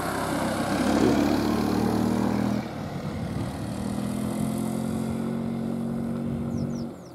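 A homemade scooter engine runs steadily near a large lake at a hunting base, a low droning hum that shifts pitch partway through and then cuts off near the end.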